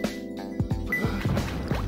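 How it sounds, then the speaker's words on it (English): Rapid clattering, clippity-clapping footstep-like clicks in the Sonic Adventure 2 video game, several quick knocks in an uneven rhythm mixed with watery game sounds, with no talking. "Oh, that stupid clippity-clapping noise."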